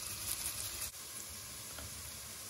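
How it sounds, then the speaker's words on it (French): Small onions sizzling in butter and oil in a pan: a faint, steady crackling hiss, soft and even throughout with a slight dip partway. "Un peu de beurre, comme ceci. Un peu d'huile. On met les petits oignons."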